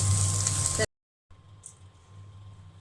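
Onions dropped into hot oil for bottle gourd and shrimp curry give a loud, close burst of sizzling, then a sudden cut to silence followed by a much quieter, continuing fry.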